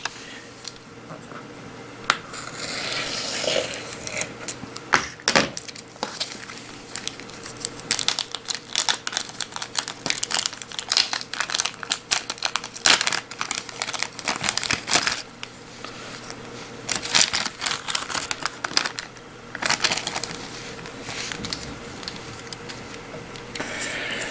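Close, irregular crinkling and rustling of a thin plastic mail packet being opened, with sharp crackles and handling noises continuing for a long stretch.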